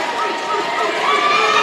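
A crowd in a packed gym at a prep basketball playoff game, St. Augustine vs. John Ehret, makes a loud, continuous roar of cheering and shouting that swells slightly toward the end.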